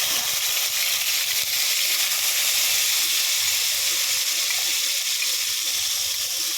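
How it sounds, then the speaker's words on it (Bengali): Marinated chicken hits hot oil in a pan, giving a steady, loud hiss of frying that holds evenly throughout with no pauses. "মাংসটা দিয়ে দিচ্ছি।"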